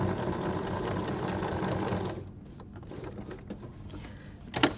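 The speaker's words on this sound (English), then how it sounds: "you are now sewing through almost 4 layers of cotton and 2 layers of toweling." Domestic sewing machine stitching through a thick stack of about four cotton layers and two layers of toweling while piecing a plus-sign patchwork quilt, a steady close whirring run for about two seconds before stopping, followed by quiet handling clicks.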